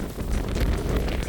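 Strong wind buffets a microphone high on a Scottish mountain, giving a loud, continuous low roar with gusty surges throughout and no talking.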